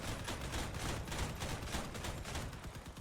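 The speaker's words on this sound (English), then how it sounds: "Who's shooting me from all the way back there?" Gunfire in the vehicle combat game Crossout, a dense, steady clatter of rapid shots with a muffled, distant quality, continuing without pause and with no talking.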